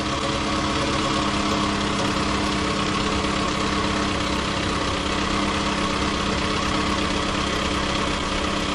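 A car engine idles steadily throughout, a continuous close, even rumble with a faint mechanical hum and no speech, during diagnosis of an evaporative purge valve fault.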